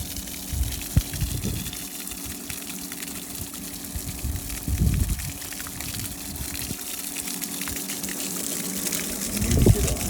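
A sand filter pump runs and pushes dirty water out, giving a continuous gushing, splashing flow with a few heavier surges and low rumbling bursts, moderately close.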